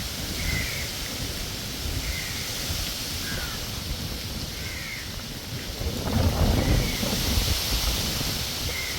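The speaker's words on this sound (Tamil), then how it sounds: "மழை வந்து தூரல் மாதிரி பெஞ்சு கொண்டே இருக்குது" Steady light drizzle falls as a continuous outdoor hiss with a low rumble underneath, while crows caw intermittently nearby and a gust of wind swells toward the end.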